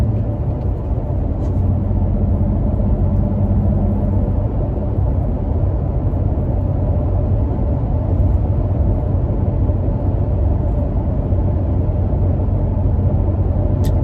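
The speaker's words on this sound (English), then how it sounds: "you guys can listen to the truck just cruising along at 55 miles an hour" Loud, steady low engine rumble of a Toyota Tacoma pickup with a chopped exhaust cruising at 55 mph, with a deep droning exhaust tone and no talking.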